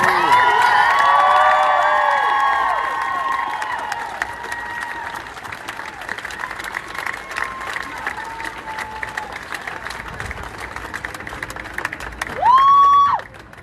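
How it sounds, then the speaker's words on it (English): A crowd applauds and cheers loudly at first, the clapping fading to a steady patter, then a brief burst of whooping near the end. "Can we give her a big round of applause"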